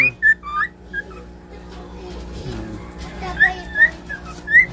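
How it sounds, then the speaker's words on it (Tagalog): A pet bird whistles in short bright bursts, some chirpy and some warbling, over a low steady background hum, with a brief quieter stretch in the middle. "Mas sumisipol na din si Timog"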